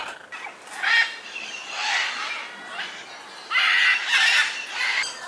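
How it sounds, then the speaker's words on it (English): Parrots and macaws, mostly Amazon parrots and small parakeets, squawk in bursts throughout an aviary of about 300 birds, with loud overlapping calls near and far that come in waves and peak toward the end. "We are now at the aviary where we have more than 300 birds, mostly parrots, of about 15 different species of macaws and parrots."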